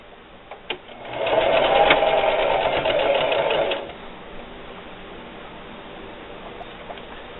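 A sewing machine stitches a straight seam through thick chenille fabric, a steady mechanical whir that runs for about three seconds before stopping, loud and close.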